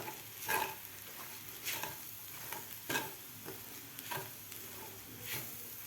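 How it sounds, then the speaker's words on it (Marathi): A spoon stirring watali dal, a coarse ground lentil mixture, in a pan to break up its lumps, with a quiet frying sizzle under six or so separate scraping strokes, close and alone. "व्यवस्थित आपल्याला ह्याच्या गुठळ्या सगळ्या मोडून घ्यायच्या आहेत असं हलवत हलवत"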